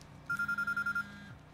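A phone in the video game Quantum Break buzzes in a quick series of about eight even pulses over a low hum, with a steady tone alongside, moderately loud.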